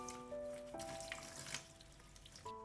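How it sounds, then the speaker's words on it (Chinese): Green beans are rinsed under running tap water in a kitchen, a soft trickle and splash, faint and close, with no talk. "用流动的清水将豆角表面的泥土和灰尘都清洗掉"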